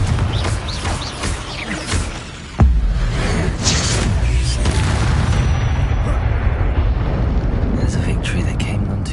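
A Confringo spell explosion in Hogwarts Legacy on PS5 lands as one sharp, heavy boom, followed by a long rumbling roar of game action and effects, with a voice speaking over it.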